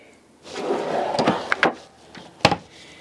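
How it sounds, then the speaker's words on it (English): A slide-out pantry drawer in a 2008 Winnebago Destination 39W Class A motorhome rolls open with a rumbling slide, a few light clacks, then a sharp knock as it reaches its stop, close and fairly loud. "Here we have a slide-out pantry."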